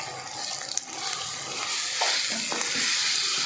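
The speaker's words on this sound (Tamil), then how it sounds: "தக்காளி சேர்த்துட்டு நல்லா வதக்கிக்கலாம்" One kilo of chopped tomatoes sautés in a pan for mutton biryani, a steady close sizzle with a few scraping stirs, no talking.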